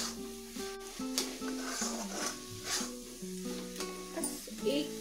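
Bottle gourd halwa with two spoons of ghee being stirred in a pan, soft sizzling and repeated scraping strokes under steady background music.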